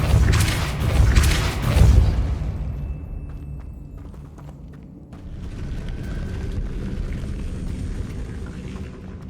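A Depulso spell cast in Hogwarts Legacy, heard as a loud whooshing blast and rumble at the start, then a fading tail and a lower mechanical creaking ambience.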